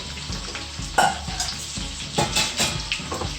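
Carrots and cauliflower florets land in a sizzling pan, bringing a steady close fry with a few sharp clatters and bursts of louder spitting as vegetables hit the hot oil.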